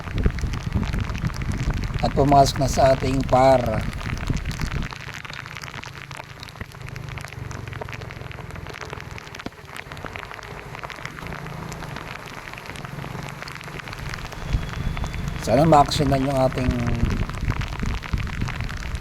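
Heavy monsoon rain falls steadily, a dense continuous patter and hiss on surfaces, while someone speaks briefly over it near the start and again near the end.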